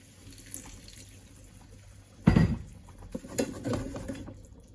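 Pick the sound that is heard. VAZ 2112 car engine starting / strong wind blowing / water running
water running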